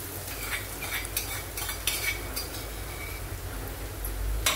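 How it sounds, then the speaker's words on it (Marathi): Grated coconut being sautéed in ghee: close, repeated spoon scrapes and light metallic clinks against the pan over a faint background sizzle, with the stirring strokes coming in irregular bursts. "आणि चांगलं परतून घ्यायचं तुपावर।"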